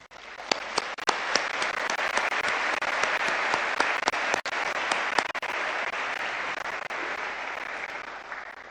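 Sustained audience applause fills a ceremony hall, dense and even from start to finish, with no voices rising above the clapping.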